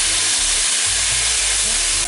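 Diced potatoes and mince sizzle in a frying pan, a loud, steady broadband hiss with faint clinks near the end.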